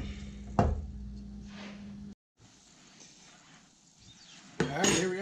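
A pot of Cuban beans taken off the stove and dishes handled for plating, with metallic clinks and a scrape of cookware, a short silent gap, then a louder clatter near the end, close by and without speech.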